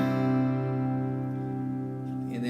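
A guitar in open C tuning without a capo rings out from a single strum, a sustained chord fading slowly over a couple of seconds with a faint touch at the end.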